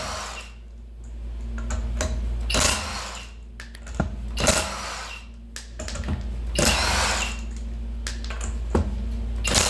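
A power tool removes lug nuts from the wheels of a Buick Encore, firing several short, loud, rattling bursts at irregular intervals over a low background hum.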